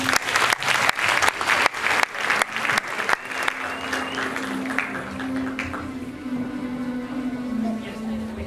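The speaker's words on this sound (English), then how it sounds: "Please give them a round of applause." Loud audience applause at a Diwali show, sharp rhythmic claps at first, dissolving into scattered clapping and crowd murmur as a tone hums beneath.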